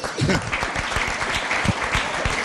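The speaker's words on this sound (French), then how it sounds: "Attendez, n'applaudissez pas encore." An audience applauds with dense, steady clapping throughout, close and moderately loud.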